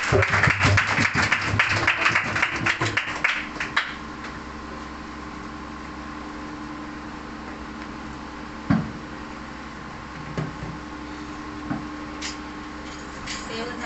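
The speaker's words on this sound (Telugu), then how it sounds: "అందరూ చప్పట్లు కొట్టి ఆహ్వానిద్దాం" Congregation applause welcoming singers at a church meeting: a few seconds of lively clapping that dies away, leaving a quiet room with a steady hum and occasional soft knocks.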